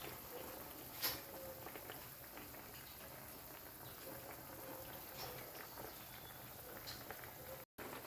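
A pot of vegetables with leafy greens and moringa bubbles at a steady simmer, a continuous wet crackle with no talking over it.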